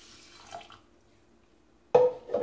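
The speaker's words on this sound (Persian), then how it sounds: "این دالو میریزیم توی قابلمه و آب رو بهش اضافه میکنیم" Water poured into a pot of red lentils on a gas stove for Persian dal adas, a faint trickle that suddenly turns into a louder, close splashing pour near the end.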